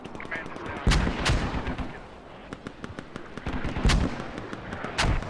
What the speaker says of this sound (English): Excellent mortar fire now.